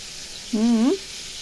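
Fish sizzles in a frying pan with a steady hiss, briefly overlaid by a short low hum that rises in pitch at the end.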